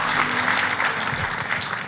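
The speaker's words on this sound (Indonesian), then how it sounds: "Tepuk tangan buat Tuhan kita Yesus Kristus." A church congregation claps together in praise, a dense, even burst of applause filling the room for a couple of seconds.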